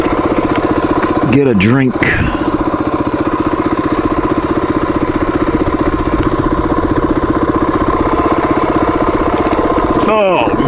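A motorcycle engine idles steadily and close by on cinder ground in Black Canyon, its throb continuing through the whole stretch while someone speaks briefly over it.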